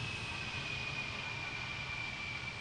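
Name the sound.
aircraft jet engine spooling in a flight simulator video game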